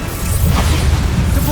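A Bombarda spell blast in Hogwarts Legacy, a loud crashing burst with a whooshing sweep and a sustained low rumble, dense and close, lasting about a second and a half.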